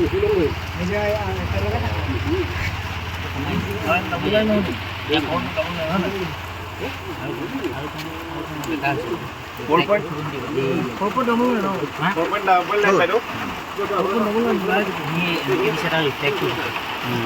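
Rain falls steadily outdoors, a continuous broad hiss of drops on surfaces that runs the whole time beneath people talking nearby.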